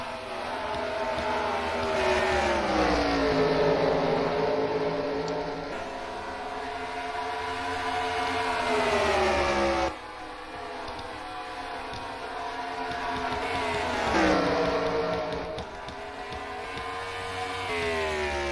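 Race cars lapping Phoenix Raceway in a sim racing game, engines droning loudly with rising and falling pitch as cars pass and shift, with no talk.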